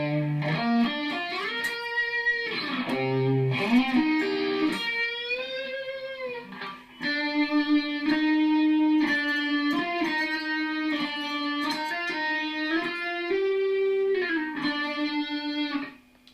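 Electric guitar plays the closing solo of a rock song, a sustained melodic line of bends and held notes with light distortion, loud and close, alone with a brief dip midway and a clean stop at the end.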